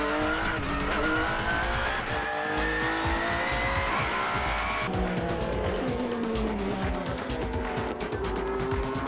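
A Skyline GT-R race car on a wet track during an endurance race, engine roaring steadily at high revs with shifting pitch and tire squeal, loud and continuous without talk.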